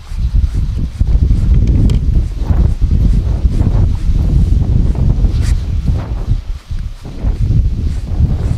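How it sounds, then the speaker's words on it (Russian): Hurricane-force wind roars and buffets the microphone in a constant heavy rumble during a pike spinning-fishing trip, with gusts surging and briefly easing; no voices. "Погода испортилась конкретно, ураганный ветер."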